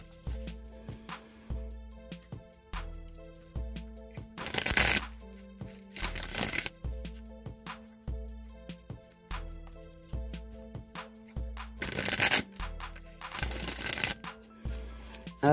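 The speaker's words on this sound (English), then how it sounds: "I'm going to shuffle the Rider-Waite deck a few times" Rider-Waite tarot cards being shuffled by hand, several short riffling bursts between softer card taps and slides, close and quiet, with a faint tonal music bed running steadily underneath.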